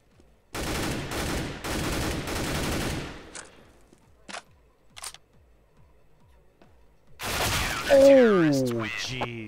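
Gunfire in the video game Counter-Strike: Global Offensive: loud, rapid bursts of rifle shots in quick succession, then a few isolated sharp cracks, followed by another burst with voices talking over it.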